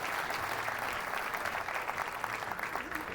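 A bowling crowd at a professional tour finals in Allen Park, Detroit, claps steadily in a large hall, a dense wash of applause that continues throughout.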